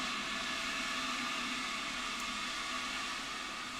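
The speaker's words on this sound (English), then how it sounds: "I don't know if you can hear the fire extinguisher thing going off." Fire extinguishers being discharged outside a fire extinguisher store, heard from indoors through a window as a steady, faint hissing rush of noise that holds constant without breaks.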